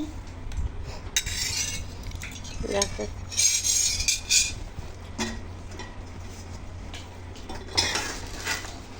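Metal spatula clattering and scraping against pots and utensils in a home kitchen, with repeated clinks and clanks over a steady background hum, fairly close and moderately loud.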